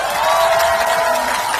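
A crowd at an outdoor campaign rally by a market, with a dense, steady roar of cheering and clapping that is loud and close and lasts only a moment.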